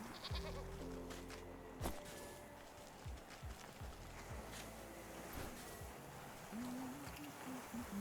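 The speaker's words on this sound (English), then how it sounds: "Oh my god, mountain goats, nice." Bleating mountain goats in the Wytchwood video game, a few brief calls early on that then give way to soft rustling and a low ambient game backdrop, moderately quiet throughout.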